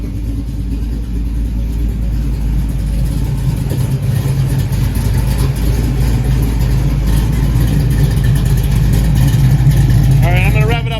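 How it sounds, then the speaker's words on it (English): A car with freshly welded Flowmaster stainless steel mufflers and an H pipe idles loudly and close, a steady deep rumble throughout, with a voice speaking over it. "I spent 9 hours welding Flowmaster mufflers into the car."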